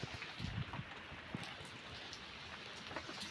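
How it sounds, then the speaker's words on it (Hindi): Steady rain falling outdoors, a dense continuous hiss with scattered drops pattering on surfaces, alone and without talk throughout. "वर्षा लगी रही"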